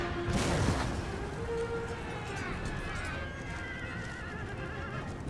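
Horses whinny loudly at the start in the video game Empire: Total War, then hoofbeats and cavalry galloping clatter continue under a busy battle din, with further neighs drifting in the background.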